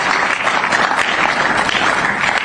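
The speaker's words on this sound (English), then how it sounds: "You must clap for that." A room of attendees at a presidential end-of-year press conference breaks into loud, sustained applause, dense clapping holding steady throughout.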